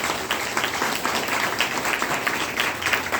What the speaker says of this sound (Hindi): डॉक्टर लिन के गैनोडर्मा के लिए जोरदार ताली होनी चाहिए।